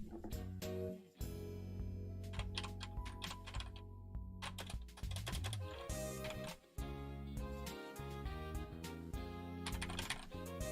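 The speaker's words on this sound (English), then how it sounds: "this is what my keyboard sounds like. It's like a very clicky keyboard." Rapid typing on a very clicky computer keyboard, dense crisp keystrokes clattering close to the mic in an uneven continuous rhythm, with a brief pause or two and no talking.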